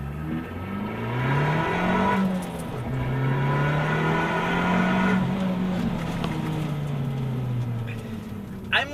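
An Abarth 695 Biposto accelerates on a rooftop track, its engine note rising and falling through gear changes in a loud, close cabin drone with tyre and road rumble throughout.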